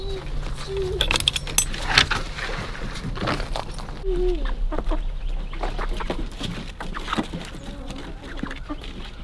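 Chickens cluck and murmur softly inside a chicken coop in cold weather, with scattered short calls, light clinks and rustling throughout and no talk.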